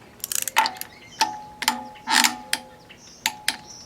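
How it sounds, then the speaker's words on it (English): A torque wrench ratchets while tightening the cylinder head bolts on a Subaru engine, giving short clicking bursts and a few longer ratcheting runs, close and sharp with pauses between them. "so now we're going to tighten the center two to 25 foot-pounds"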